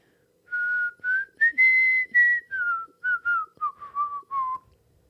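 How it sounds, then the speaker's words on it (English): A person whistles a short melody alone, a string of clear, close tones with brief pauses between phrases and nothing else audible. "Can you do the whistle again?"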